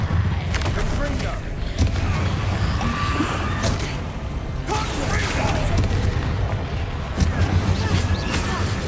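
Confringo fire spell blasts in the video game Hogwarts Legacy, a run of loud booming impacts and sharp cracks over a constant rumbling battle din, several distinct hits spread across the stretch.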